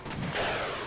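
M109 howitzers fire cluster artillery in a modern military video game, a single loud close boom that rolls into a long, broad rumbling decay.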